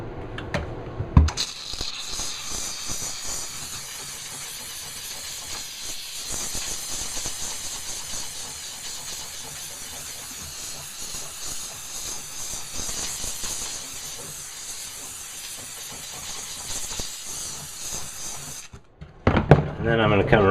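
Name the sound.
McCulloch MC1275 steam cleaner spraying steam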